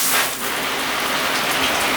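Apartment bathroom shower running at strong water pressure, a steady close hiss of spraying water that stays constant throughout with no talking.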